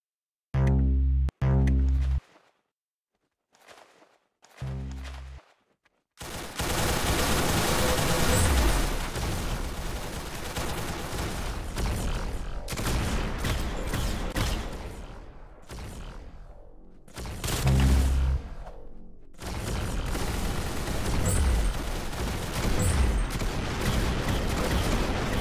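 Gunfire in the video game Arsenal, with a few sharp blasts at the start, then a long, loud stretch of sustained shooting and explosions with brief pauses, no talk.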